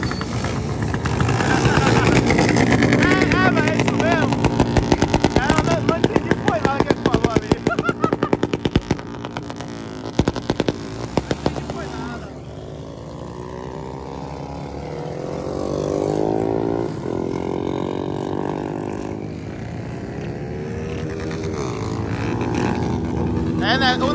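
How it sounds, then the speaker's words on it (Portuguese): Motorcycle engines revving loudly at a moto fest, a dense roar with sharp bursts in the first half, then steadier engine drone beneath a crowd's chatter and shouting. "Só no giro do motor, viu?"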